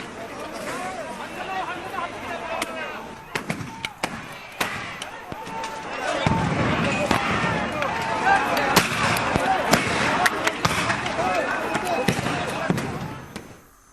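Sharp bangs of tear gas shells fired by police at a violent protest in Manipur ring out repeatedly, some sounding in close succession, over shouting crowd noise and a reporter's voice.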